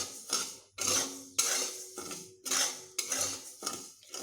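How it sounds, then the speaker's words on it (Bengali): Broken wheat (dalia) dry-roasting in a kadai, with a metal spatula repeatedly scraping and stirring against the pan in steady, close, loud strokes and no talking. "ডালিয়াগুলোকে এইভাবে শুকনোভাবে আমি একটু এইভাবে ভেজে নেব"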